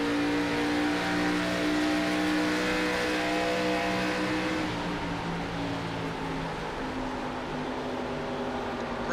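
Stock race cars at Pocono Raceway roar in a loud, steady engine drone, the pitch holding high and then shifting lower as the cars run close together, with no voices over it.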